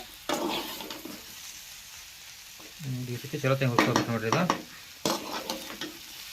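Vegetables fry in a pan while being stirred, giving bursts of sizzling and scraping close by that swell in the middle and then resume after a brief lull.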